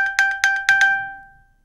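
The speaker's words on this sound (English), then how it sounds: "a button right here that allows you to reproduce a sound on your iPhone" An iPhone alert sound set off from the Apple Watch find button: a bright, bell-like tone in a quick rhythmic run of about six strikes, then ringing out and fading, clear and close with no talk.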